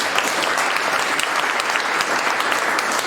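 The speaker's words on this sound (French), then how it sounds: "Est-ce qu'on peut l'applaudir encore une deuxième fois?" A crowd claps steadily and densely throughout, a sustained burst of applause with no pauses.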